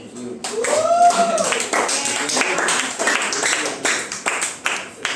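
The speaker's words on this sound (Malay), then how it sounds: "tepuk tangan untuk diri sendiri" A Form 3 history class of students claps for themselves in a classroom, a burst of scattered, rhythmic hand claps that fades into sparser claps, with a teacher talking over it.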